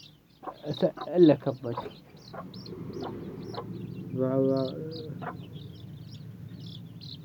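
Chicks chirp in rapid high peeps throughout, mixed with a few clucks, while a person talks close by over them.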